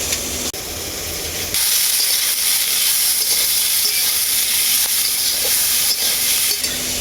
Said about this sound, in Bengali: সবজিটাকে আমি ঢাকা দিয়ে ঢাকা দিয়ে খুব ভালো করে ভেজে নেব